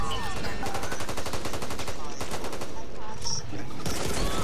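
Rapid bursts of automatic gunfire from the Back 4 Blood video game on nightmare difficulty, a dense continuous rattle of shots for several seconds, loud and close, with no clear speech over it.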